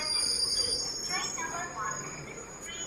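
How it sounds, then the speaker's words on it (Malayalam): A passenger train pulls into the platform at Aluva railway station with a steady rumble of wagons and faint high wheel squeal, heard from on board. "റെയിൽവേ സ്റ്റേഷനിലോട്ട് നമ്മുടെ ട്രെയിൻ ഇപ്പോൾ കയറിക്കൊണ്ട് നിൽക്കുന്നത്"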